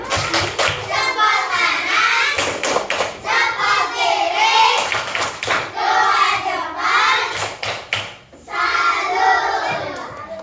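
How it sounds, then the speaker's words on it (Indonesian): A class of third-grade children performs a rhythmic chanted clap routine, their voices shouting in unison between bursts of patterned hand claps, loud and close, repeating in several cycles. "Kasih tepuk salut, tepuk salut."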